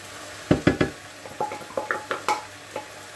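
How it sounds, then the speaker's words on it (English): Onions sizzle and crackle in a hot pan, with a few sharp clatters of a utensil stirring against the metal up close. "You can hear the onions really sizzling away nicely now."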